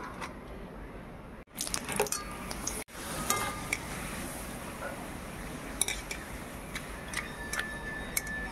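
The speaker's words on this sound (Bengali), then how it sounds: "প্রথমে পাঁপড়গুলো হচ্ছে ভেজে নেব।" Papad frying in hot oil in a wok crackles and ticks steadily, with scattered sharp pops and a soft sizzling hiss running underneath.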